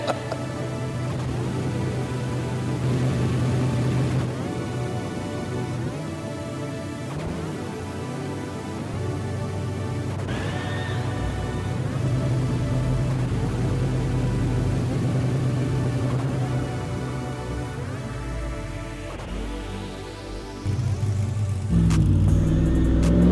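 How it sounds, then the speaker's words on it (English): Stunt cars warm up on set with engines revving in a sustained, loud roar that swells and dips, and a rising whine builds toward the end. "Cars warming up."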